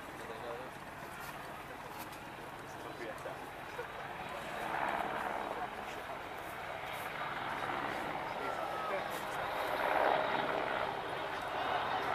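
A Merlin helicopter passes overhead during a Royal Marines beach assault display at the Bournemouth Air Festival, its steady rotor and engine drone distant and swelling slightly, under continuous commentary over a loudspeaker.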